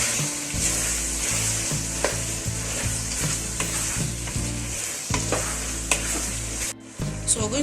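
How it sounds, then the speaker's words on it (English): Carrots and green beans sizzle loudly in a frying pan of mixed vegetables, with repeated scraping stirs at a steady rhythm, close and continuous. "Now we're going to add in our carrots and green beans."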